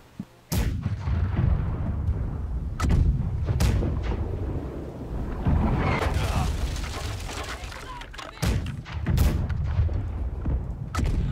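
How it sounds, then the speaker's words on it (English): Heavy booms of ship cannon fire in the game Blackwake go off repeatedly in uneven bursts over rumbling game action, with voices talking throughout. "Just get a bit cannon going on the starboard side."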